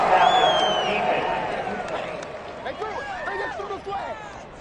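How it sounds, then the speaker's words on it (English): A big stadium crowd in an American football video game roars and boos at a penalty call, a loud sustained swell that slowly fades while commentators talk over it. "this crowd does not like that call"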